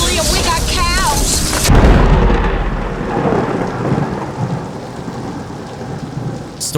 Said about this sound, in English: This is a nasty cluster of storms.